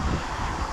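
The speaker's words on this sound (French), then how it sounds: "Voilà, ça souffle bien par contre le vent." Strong wind blowing outdoors at an RC buggy track, a continuous rough buffeting roar across the microphone with no voices.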